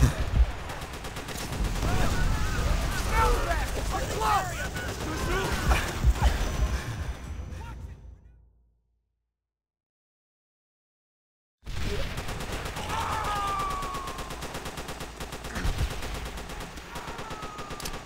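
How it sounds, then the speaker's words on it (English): Enemy machine gun fire in Call of Duty: World at War on Veteran difficulty: dense, sustained bursts of rattling automatic fire mixed with battle noise and shouted voices, cut by a few seconds of total silence before the gunfire resumes. "Enemy machine gun!"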